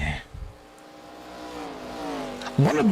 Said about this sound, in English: Definitely gonna hear those engines with those cameras very loud inside of these machines